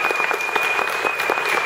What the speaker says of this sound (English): give a round of applause for Aaron.